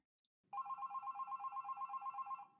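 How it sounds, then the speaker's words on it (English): A telephone rings in a quiet home in the evening: after a brief silence, a steady electronic ring pulses in rapid, even bursts, close and clear, with nothing else heard. "The phone rings before I can settle in."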